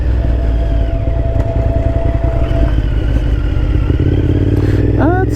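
A 2008 Honda VTR 1000 motorcycle engine loud and close on a test ride, holding a steady throbbing drone that rises and falls with throttle, with clattering and brief wind noise.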